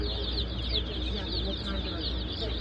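Rhode Island Red chicks cluck and cheep continuously in a busy chorus, close and steady, over a low background hum.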